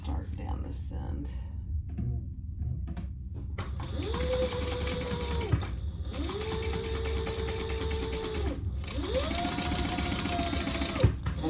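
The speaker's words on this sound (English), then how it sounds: "we're going to sew that together at the full seam allowance as described in the pattern" A sewing machine stitches a seam along zipper tape in three sustained runs with short pauses between, loud and close, with speech heard early on.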